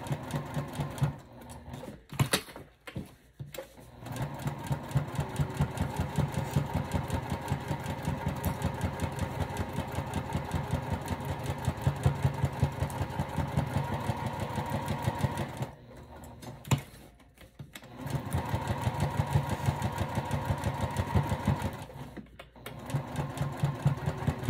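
Sewing machine stitching through fabric, interfacing and vinyl for a zipper pouch, a steady close mechanical whir in long runs, stopping briefly a few times for pivots before resuming.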